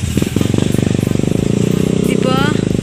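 Motorcycle engine during a motocross ride on a farm: a loud, close, steady buzzing drone with rapid pulsing firing, while people talk over it.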